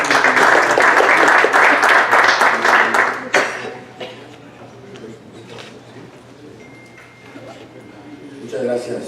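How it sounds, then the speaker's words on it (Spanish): Audience applause welcoming a doctor at a talk on gut-brain axis disorders, dense clapping filling the first three seconds then fading into scattered claps and room murmur, with a voice speaking near the end. "Pido un aplauso para la bienvenida para el doctor."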